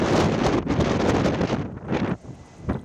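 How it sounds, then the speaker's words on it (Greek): Strong wind buffets the microphone in heavy, roaring gusts that ease briefly before surging again, at a wildfire in Crete. "Στο σημείο επικρατούν πολύ ισχυροί άνεμοι"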